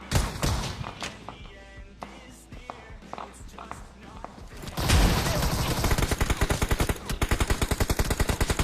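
Gunfight in PUBG Mobile: bursts of automatic rifle fire and scattered single shots, then a dense, loud run of rapid rhythmic gunfire in the second half, with footsteps and thuds mixed in.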